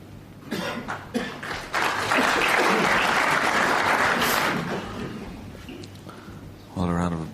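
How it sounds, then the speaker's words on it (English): A snooker crowd at a World Championship match breaks into sustained applause, swelling to a full steady roar of clapping and then fading, with coughs scattered through it and a voice coming in at the end. "Well, a round of applause"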